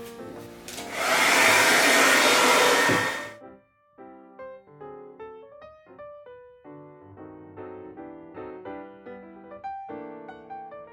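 A hair dryer blows loudly for about three seconds to dry paint on a canvas, then cuts off, leaving soft background music.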